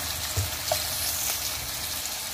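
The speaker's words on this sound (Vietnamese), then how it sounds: "để mình rán đậu cho nó chín phần thịt" Meat-stuffed tofu fries over a very low flame in a covered pan, giving a steady, even sizzle and crackle throughout, close and with no talk.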